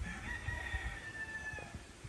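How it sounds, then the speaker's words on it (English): A rooster crows on a windy morning in an orchid garden, a fairly faint, sustained call heard over steady wind noise with no talking. "So if you guys like roosters, you guys can enjoy them singing"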